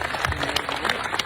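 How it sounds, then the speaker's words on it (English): Audience applause for a senator at an AOPA aviation event, a short burst of dense clapping from a crowd heard close and steady. "a big round of applause for Senator"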